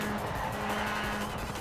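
Car in the racing game Forza Horizon 4 braking on its own, a brief steady rush of engine and tire noise with a squealing skid edge, close and continuous for under two seconds.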